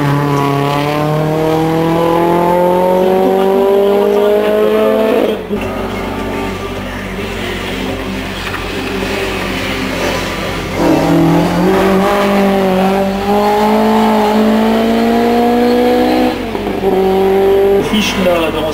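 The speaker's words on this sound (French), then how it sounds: "Là, on retrouve une Porsche 911 dans une configuration de l'I7 cette fois." A Porsche 911 race car in hill-climb configuration at the 2008 Saint Gouéno event roars close and loud, its engine pitch climbing steadily and dropping at each of several gear shifts.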